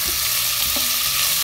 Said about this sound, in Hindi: अब इसमें डाल देते हैं कटा हुआ प्याज और इसे हल्का गोल्डन ब्राउन होने तक पका लेंगे।